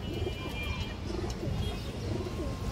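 A Giribaz pigeon coos in soft, repeated low phrases close by, several rounded calls spaced through the stretch over a faint background hum.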